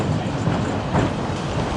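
A Porto tram runs along its line, a steady loud rumble of wheels and carriage noise from on board, with no talk.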